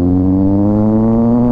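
Kawasaki Z900 motorcycle fitted with a full-system exhaust and a cut header, running close by with a loud, steady droning engine note and no talk over it.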